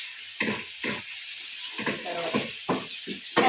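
Tomatoes sizzle in hot oil in a frying pan while being stirred, with repeated short bursts of scraping and crackle in an uneven rhythm, close and moderately loud.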